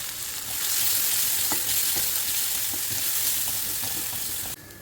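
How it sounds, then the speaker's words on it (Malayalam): Mustard seeds spluttering in hot oil, a dense sizzle dotted with sharp little pops and crackles at close range, cutting off abruptly near the end. "കടുക് പൊട്ടട്ടെ."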